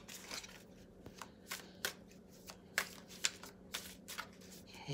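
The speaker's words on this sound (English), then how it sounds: "I'm gonna draw five cards for you, Reesa." Tarot cards being shuffled by hand before a reading, a close, quiet run of riffling flicks and soft slaps in an uneven rhythm with no talking.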